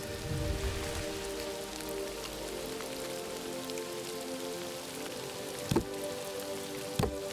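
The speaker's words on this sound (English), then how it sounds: "Always nice to see rain effects though" Steady rain patters over a surface in the video game Dawn of Defiance, a constant wash of drops with a couple of sharp clicks near the end and no talking.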